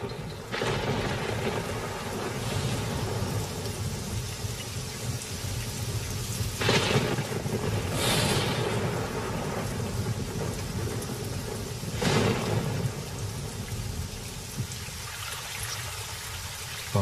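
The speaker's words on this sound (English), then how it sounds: "But now a tremendous storm is brewing." A heavy thunderstorm breaks over the dry Kalahari. Dense rain roars without a break while several loud thunder cracks and rumbles roll through it.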